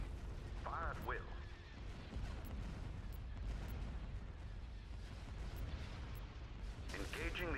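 Starship batteries open fire on an enemy fleet in a Star Wars space battle video game, a steady rumbling barrage of blasts running throughout beneath game voice lines.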